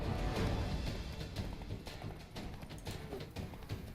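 A horse gallops in the video game Witcher 3 with rapid, rhythmic hoof clops. The hooves drum continuously, fairly near, amid faint game ambience.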